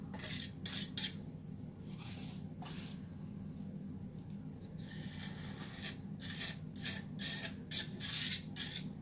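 A pallet knife scrapes paint across a canvas for a fall pumpkin painting, making repeated soft, close rasping strokes in short bursts over a quiet background.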